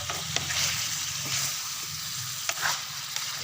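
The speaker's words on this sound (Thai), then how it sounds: "เอาผัดเผ็ดได้เลเพื่อน ผัดเผ็ดหมูป่า ครับ" Spicy stir-fried wild boar sizzles and crackles steadily in a hot pan, with a few sharp stirring clinks of a utensil against the pan rising over the continuous frying hiss.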